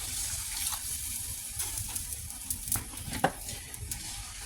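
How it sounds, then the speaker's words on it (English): Water being poured from a measuring cup into a pot of browned beef, a steady running splash and gush at moderate volume with a few sharper clinks, no talking. "to it, we're going to add 4 1/4 cups of water"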